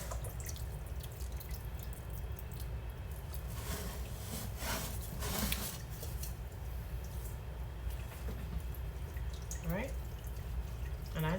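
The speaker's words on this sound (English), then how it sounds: "You can hear it draining into my stainless steel pan." Cooked elderberries drain into a stainless steel pan in a home kitchen, giving a steady trickle with occasional drips and faint scraping over a constant low background hum.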